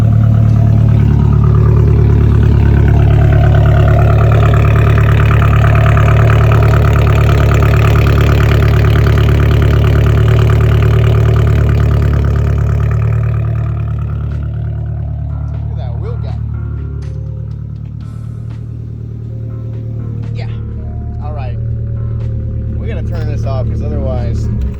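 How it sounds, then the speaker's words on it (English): A 1989 Nissan 240SX with a new ISR exhaust idling loud and close, a deep, steady droning rumble that holds for about thirteen seconds before softening slightly as it settles, with faint speech and movement sounds over the later part. "it just got a new ISR exhaust, so it's super loud"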